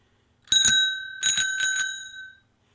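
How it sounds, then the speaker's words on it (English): A bicycle-style bell rung by a robot, two quick clear metallic dings followed by a short burst of three more rings, bright and close with a ringing tail, no talking. "Got the bell."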